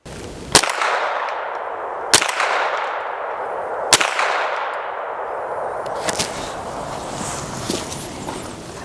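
An unsuppressed Smith & Wesson M&P 15-22 rifle fires standard .22 LR rounds in three sharp, loud cracks, each trailing off in a long echo, followed by fainter later reports.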